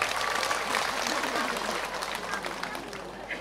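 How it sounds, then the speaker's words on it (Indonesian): An audience applauds Pastor Gilbert Lumindong, a pastor from Manado, at a lively religious gathering, with steady dense clapping at a fairly even level and crowd noise mixed in. "Tepuk tangan untuk Pendeta Gilbert Lumindong."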